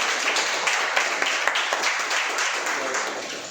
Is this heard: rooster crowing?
no